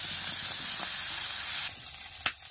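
Crabs caught in the Sundarbans sizzle loudly in hot oil, a dense, steady frying hiss that drops away abruptly partway through, leaving quieter crackles and a sharp clink.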